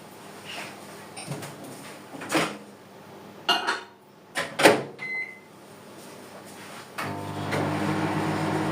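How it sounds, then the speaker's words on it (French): Cupboard or microwave door clunks and dish handling in a home kitchen as food goes into a microwave to melt, a few sharp knocks and a beep, then a steady low microwave hum starting near the end. "Donc je vais y mettre au micro-ondes,"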